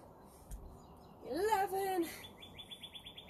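Birds chirping outdoors during a home weights workout: one bright, sweeping, warbled call, then a rapid run of quick repeated tweets, clear and fairly near, with a voice briefly counting aloud.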